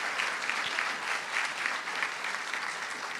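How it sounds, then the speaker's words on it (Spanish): Audience applause for a speaker at a conference on innovative cities, steady, even clapping from a sizeable crowd, moderately loud throughout. "Fuerte el aplauso para Camila Alanís."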